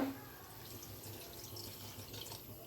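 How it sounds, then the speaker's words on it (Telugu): Water pours steadily into mushroom curry in a pressure cooker, a quiet, even trickle and splash that runs for a few seconds. "ముక్కలు మునిగే వరకు నీళ్లు పోయండి"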